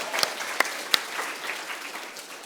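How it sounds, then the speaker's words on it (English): Schoolchildren applauding at Urmston Junior School, a brief, moderately loud patter of clapping from a room of kids with a few sharp individual claps standing out. "Another big round of applause."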